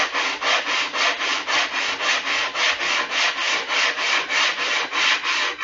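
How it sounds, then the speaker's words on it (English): Hand sanding along the edges of a wooden board, steady rhythmic back-and-forth rasping strokes, about three per second, close and clear with no voices. "More sanding on the edges around."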